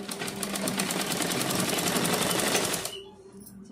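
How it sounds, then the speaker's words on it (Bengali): A sewing machine runs a steady, rapid stitching clatter while sewing a blouse lining to the fabric. It is close and even, then stops abruptly near the end, leaving quiet. There is no speech. "তো চলো এবার সেলাই দিয়ে নিই।"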